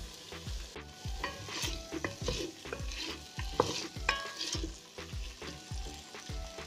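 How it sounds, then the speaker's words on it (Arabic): Vegetables frying in a pot for Turkish lentil soup, a dense crackling sizzle with frequent scraping and knocking of a spoon stirring against the pot, close and continuous. "كل مره نحركو باش اولا تتقلى من الشريط الكل، وباش زيدا ما تشدلناش في الطنجره"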